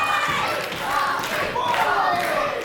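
A professional wrestling crowd at a Titanic Wrestling show cheers and roars steadily for wrestler Rocky Starr, a dense, continuous wash of voices with scattered shouts and claps.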